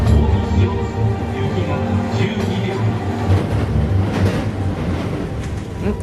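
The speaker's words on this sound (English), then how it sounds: "The train hurtles towards Amagasaki Station." A train speeding toward a station in Japan rumbles steadily and loudly throughout, with rail rattle and carriage vibration and a faint voice in the background.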